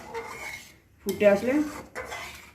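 A spoon scrapes and knocks against a pot while jackfruit kofta curry is stirred, a few clattering metallic strokes in short bursts with brief pauses between, close and fairly clear, no talking.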